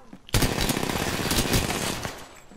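Automatic gunfire in the Apex Legends video game bursts in suddenly and keeps going as a rapid, loud, dense volley for about two seconds before tapering off.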